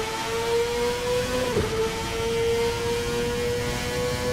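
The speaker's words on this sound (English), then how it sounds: "the sounds of cheering fans should just barely be audible over the roar of the engine" A CART race car engine at Laguna Seca in a racing video game roars with a steady, loud, high-pitched drone and a brief pitch dip partway through, with no voices.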